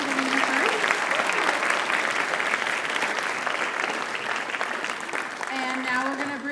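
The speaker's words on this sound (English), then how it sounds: "Let's give our guest one more round of applause." Loud, sustained clapping from an audience at a writers' expo fills the room, while a voice speaks over the applause at the start and end.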